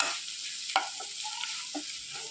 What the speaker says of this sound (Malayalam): എല്ലാം കൂടെ നന്നായിട്ട് യോജിപ്പിച്ച് അതിൻ്റെ പച്ചമണമൊക്കെ പോകുന്നത് വരെ നന്നായിട്ടൊന്ന് ഇളക്കി യോജിപ്പിക്കുക